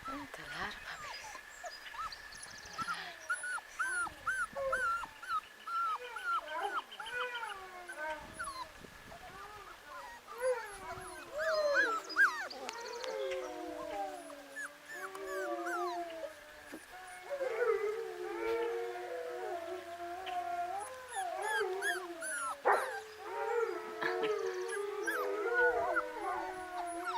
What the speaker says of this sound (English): That's a lot of puppies.